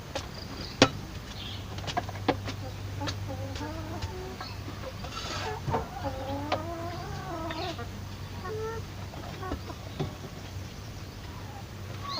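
Chickens cluck and murmur close by in the open while soil is dug and scraped for chicken manure, with a few louder squawks and faint insect chirps over a low steady hum.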